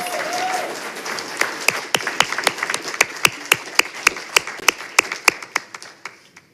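A crowd at a school board meeting applauds, the clapping thinning out until a few people keep clapping in a steady, sharp rhythm near the end.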